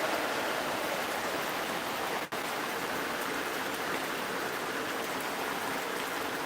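Heavy afternoon rain pours down in a steady, dense hiss that stays close and loud throughout, with a single momentary dip midway and no voices.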